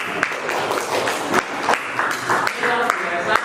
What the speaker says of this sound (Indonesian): Oke, semuanya berikan tepuk tangan untuk kelompok B.